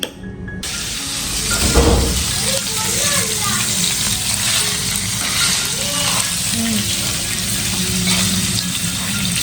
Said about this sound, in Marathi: पनीर देखील तेलामध्ये थोडेसे फ्राय करून घ्यायचं